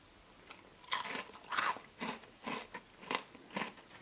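Crunchy bites and chewing of a Kinder Bueno White ice cream cone with hazelnut ice cream and filling, a series of close, crisp crackling crunches at an irregular rhythm, with no talk.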